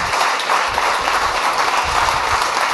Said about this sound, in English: Please don't let that stop you from giving them a huge round of applause